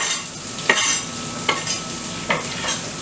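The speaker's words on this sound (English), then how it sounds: "Before the garlic gets all down and cooked, you add your herbs." Garlic and herbs fry in a pan for a homemade bacon and pepperoni pizza, giving a steady close sizzle broken by three or four brief scraping stirs, with no talk.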